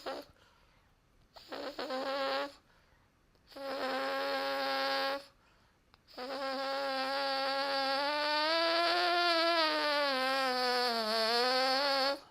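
Lip buzz on a trumpet mouthpiece cutout with a relaxed embouchure: three short buzzed tones broken by pauses, then one long sustained buzz that wavers slightly in pitch, close and fairly loud with no talking.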